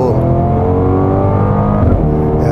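A Mercedes-AMG GLB 35 4MATIC four-cylinder engine revs loudly and steadily up close, its rich droning note holding throughout with a brief dip near the end.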